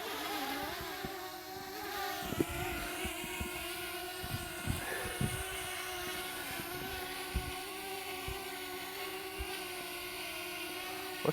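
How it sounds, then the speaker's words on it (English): An outdoor camera drone, flown with an orbit flight mode, hums with a steady droning whine for several seconds, along with wind rumble and scattered low bumps on the microphone. "And the drone's back."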